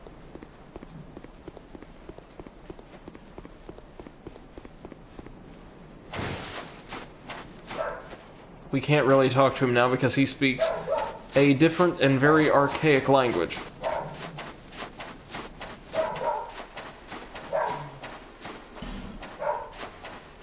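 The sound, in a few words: dog barking in the room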